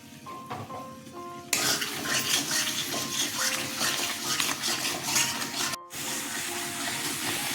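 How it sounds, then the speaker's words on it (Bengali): Water pours into a pan of prawn curry with fried-down masala, a broad splashing rush starting abruptly and running steadily close by, with faint clinks of utensils before it and a brief cut near the end. "মশলা কষানো হয়ে গেছে জল দিয়ে দিচ্ছি"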